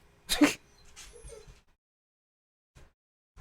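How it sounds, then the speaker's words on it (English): A dog whimpers nearby, one sharp high cry followed by a couple of fainter whines, then quiet with only soft shuffling. "So even the dog's crying."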